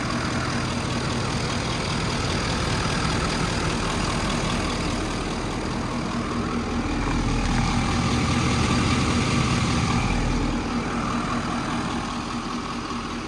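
A 2018 Ford F550 diesel truck engine idles with a steady, low rumble, swelling slightly in the middle before settling back to an even drone.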